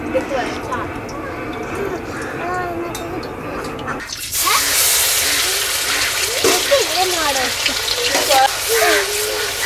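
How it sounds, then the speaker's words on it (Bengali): Mustard oil is poured into a large wok. A quiet stretch with a voice is followed by a sudden, loud hiss and sizzle that continues under speech. "সরষের তেল দিয়ে দিচ্ছি।"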